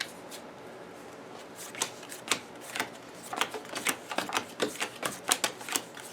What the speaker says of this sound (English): Give it a quick little shuffle, then do the side to side that I like to do